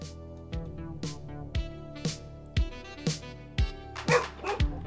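Dog barking in the video game Lakeview Cabin 2, a steady series of about ten sharp, loud barks and yips in an even rhythm, close by with no talking.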